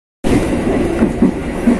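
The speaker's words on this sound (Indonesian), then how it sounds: "kereta api Serayu sudah tiba di stasiun Jatinegara" Interior rumble of the KA Serayu passenger train arriving at Jatinegara station, a steady low roar with faint rhythmic wheel clatter that begins abruptly and continues at moderate, even loudness.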